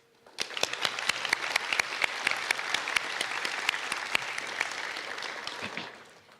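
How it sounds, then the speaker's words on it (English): An audience applauds at a Willowbrook High School National Honor Society induction ceremony, a dense, steady crowd clapping sustained for several seconds before tapering off at the end. "So please give yourself a round of applause."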